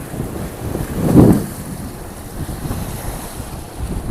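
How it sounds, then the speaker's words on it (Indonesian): Seaside ambience on the beach at Teluk Bobong, Pulau Taliabu: wind buffeting the microphone over a steady wash of surf, with one louder wave surge partway through. "Ini suasana pantai Teluk Bobong"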